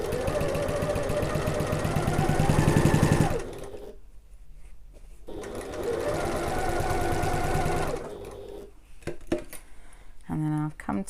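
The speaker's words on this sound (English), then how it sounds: "we're going to sew around it using our regular stitch length and our regular seam allowance" A sewing machine runs in two long, steady bursts of stitching as it sews around the edges of a sling bag, with a pause between them and light handling clatter and clicks at the end.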